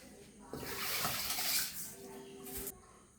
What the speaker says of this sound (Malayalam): ഞാൻ മുതിരയിട്ട് വെള്ളം ഒഴിച്ച്